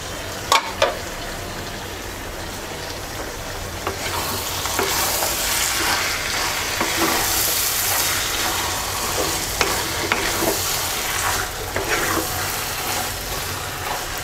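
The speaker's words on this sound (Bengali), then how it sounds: "এবার ঢাকনা দিয়ে লো হিটে 5 মিনিট কষিয়ে নেব।" Mixed fruit pickle simmering and sautéing in a pan over low heat, with a steady sizzle, scattered stirring scrapes and a couple of sharp clinks near the start, all running continuously without talk.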